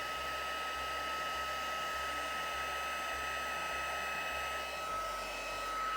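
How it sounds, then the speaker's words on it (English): Heat gun blowing on a card to melt copper embossing powder, a steady close whooshing whine with a faint pulsing hum, alone and continuous. "Get our heat gun warmed up."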